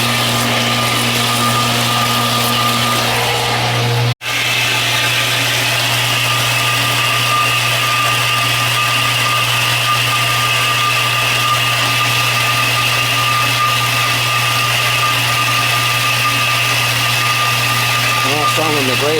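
A faulty water booster pump runs with a loud, steady motor hum and a high whine. The sound drops out for a moment near the start and then carries on unchanged.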